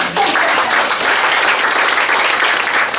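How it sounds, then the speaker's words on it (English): A crowd applauds loudly and continuously, dense clapping filling the whole stretch from start to end. "I say we give them a round of applause"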